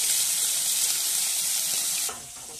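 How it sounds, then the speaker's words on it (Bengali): Bata fish frying in hot oil in a wok, a dense steady sizzle up close that suddenly drops to a softer crackle near the end. "বাটা মাছটা আগে ভেজে নিচ্ছি"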